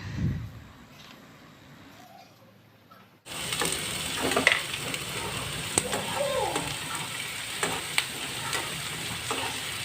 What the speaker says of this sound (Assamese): তেনেকৈ বাদামী ৰং হোৱালৈকে ভাজি থাকিম।